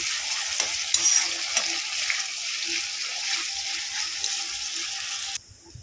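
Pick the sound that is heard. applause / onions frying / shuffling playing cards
onions frying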